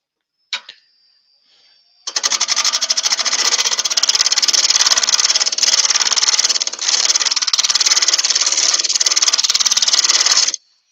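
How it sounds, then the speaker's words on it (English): Woodturning gouge held on the skew making a shear scrape inside a bowl turned from a wet branch, a steady loud rasping hiss on the spinning wood lasting several seconds after a brief tap at the start. "I'm slightly lifting the handle and putting it on the skew as well. So it's a shear scrape more."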